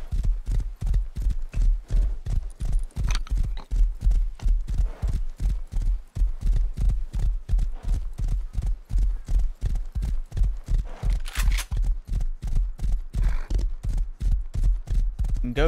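Horse hooves clip-clop steadily in the survival video game Rust, a loud, close, evenly paced run of dozens of hollow thuds continuing throughout with no talk over them.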